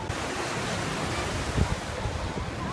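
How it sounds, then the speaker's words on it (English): Ocean surf washing in at a pier, a continuous broad roar of waves and wind noise with a slightly heavier surge midway, no voices. "We're at the ocean now. There's the ocean."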